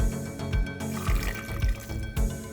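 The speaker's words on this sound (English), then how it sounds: "And we have to add it a little bit of water." Water is poured into a Salvadoran enchilada sauce of chopped onion and tomatoes, making close liquid splashes and gurgles with a few soft thuds and no talking.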